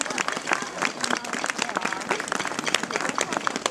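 An audience claps steadily at a civic reception in Speyer, a broad sustained applause of many hands throughout with a faint murmur of voices underneath.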